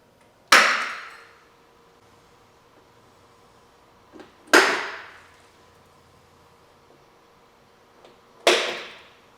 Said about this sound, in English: I'm also going to center punch it.